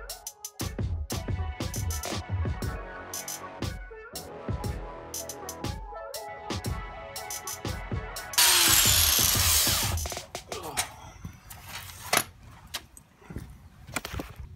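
A power tool cuts a fuel pump hatch door for a 4th-gen Camaro / Firebird F-body, with whirring motor bursts and rattling, then a loud sustained high-pitched cutting stretch, close up, followed by scattered clatter.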